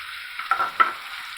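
Chopped garlic with black pepper, cinnamon and cardamom fries in hot oil in a pan, a steady sizzle broken by two close scraping stirs.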